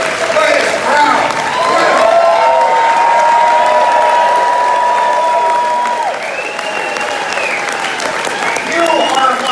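A large crowd at a Conservative Party political rally in Victoria, British Columbia cheers and applauds loudly and steadily throughout, with voices shouting amid the clapping.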